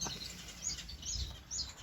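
Orange-cheeked waxbills in an outdoor aviary give faint, high, thin chirps, a few short calls spaced apart over a soft background hush.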